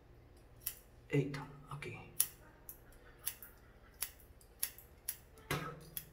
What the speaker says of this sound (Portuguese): aqui é com tesoura, é trabalho de tesoura